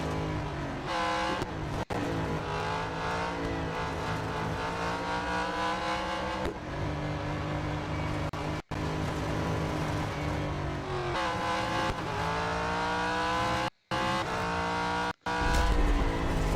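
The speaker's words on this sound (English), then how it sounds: "If you accelerate out early, a car like this, it's going to skid." In Real Racing 3, a race car accelerates out of a corner and skids: loud engine revs rising and falling in repeated sweeps, with tire noise and a few abrupt cuts, and no talking.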